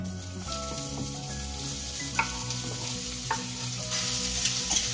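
Chopped onion frying in a wok seasoned with dried chilli and kasuri methi, a steady close sizzle with occasional stirring scrapes and light clinks, over quiet background music.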